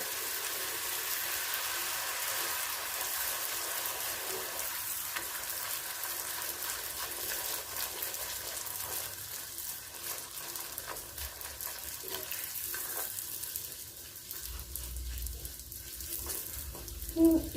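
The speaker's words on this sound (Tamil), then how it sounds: "பூரி போட்டுட்டு உடனே உடனே திருப்பி விடக்கூடாது" Puri frying in hot oil gives a soft, continuous sizzle and bubbling that stays fairly faint and steady throughout, with a small clatter near the end and no talk.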